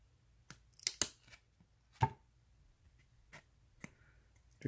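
Trading cards being peeled apart by hand, a handful of sparse, quiet crisp clicks and snaps spaced irregularly against a near-silent background.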